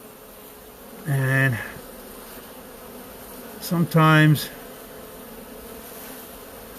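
Swarming honeybees clustered on a leg buzz in two loud close-up bursts a few seconds apart over a faint steady hum, with a few brief spoken words.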